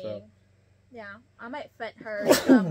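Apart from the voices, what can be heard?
sneeze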